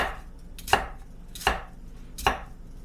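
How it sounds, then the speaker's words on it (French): A knife chops through an onion on a board in three crisp, evenly spaced strokes, each a sharp close thud. "Fait que là, on a coupé notre oignon."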